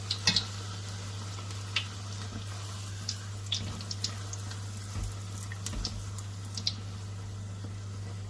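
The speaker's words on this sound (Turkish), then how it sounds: "biraz çevirerek bu şekilde kızartıyoruz." Steady sizzling of pişi dough frying in hot oil, with scattered crackles and pops plus occasional faint clinks of a utensil turning it, with a low constant hum beneath.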